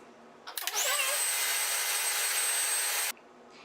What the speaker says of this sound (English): I'm gonna go ahead and turn on the dryer.